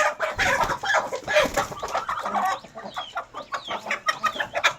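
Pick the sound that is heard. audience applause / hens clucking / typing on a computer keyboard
hens clucking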